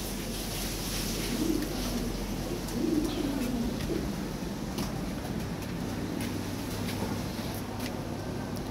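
Lahori pigeons coo in a low, soft, rolling rhythm a few times, close by amid steady background noise and faint chirps in a pigeon collection.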